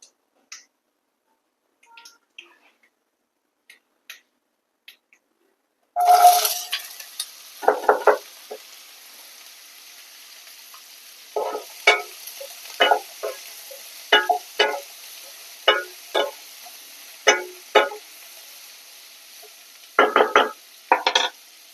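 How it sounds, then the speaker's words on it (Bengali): Pieces of ash gourd go into hot oil and start a soft, steady sizzle, with repeated sharp scrapes and knocks of a spatula against the pan after a quiet start. "তেলটা গরম হয়ে এসছে, এইবার এতে চাল কুমড়োটা দিয়ে দেবো।"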